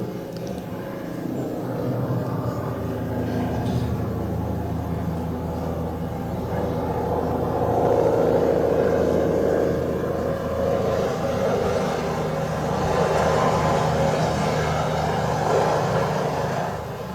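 A helicopter transporting skiing accident patients. A steady, loud engine and rotor drone continues without a break for the whole stretch, with no voices.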